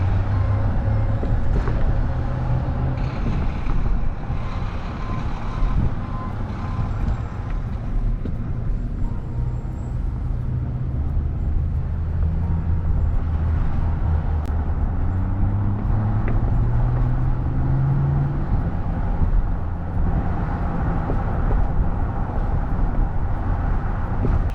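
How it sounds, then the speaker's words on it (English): A car drives through the town center of Commerce City, Colorado, heard as a loud, continuous low road and engine rumble from inside the vehicle, with slowly shifting tones and no talking. "So let's drive through here a little bit."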